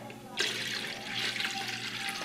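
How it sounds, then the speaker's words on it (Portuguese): A cup of water poured into a blender jar during preparation of a savory blender pie batter, producing a steady splashing flow that begins abruptly and runs continuously at moderate, close level. "aqui no jarro do liquidificador, vem com uma xícara de leite, xícara de 240 ml, uma xícara de água"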